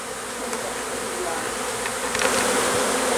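A swarm of honey bees buzzes close by in a dense, continuous hum. Individual bees whine past now and then, and the drone stays loud and steady with no voices.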